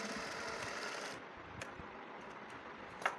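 An electric sewing machine runs a stitch line over a hook-and-eye strip on a blouse, a close, steady whir that drops quieter partway through, with a few small clicks.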